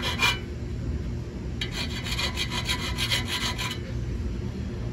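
A hand file rasps sharp, rough spots smooth on the frame of a 72V electric dirt bike: one short stroke, then a quick run of rhythmic back-and-forth rasps close to the listener, with no talking.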